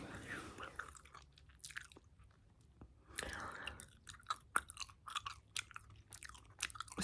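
Bubble Yum bubble gum chewed close up, with soft wet smacking and clicking mouth sounds in an irregular rhythm, quiet and intimate with faint breathy whispering in places.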